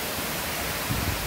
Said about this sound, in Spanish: aquí a esta cascada se le conoce, le llaman el Salto de Ayuquila, aquí en Jalisco